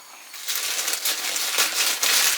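A TikTok shipping package is cut open on the floor, giving a steady close crinkling and crunching of plastic and packaging with a few sharper crackles, and no talking.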